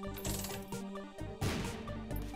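A coin from The Binding of Isaac clinks and jingles a few times against game music and effects, fairly faint.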